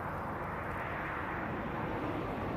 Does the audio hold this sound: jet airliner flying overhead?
yes